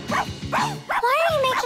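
A cartoon dog barks and yips in short bursts, then lets out a drawn-out whining cry, all close and loud, with voices speaking around it.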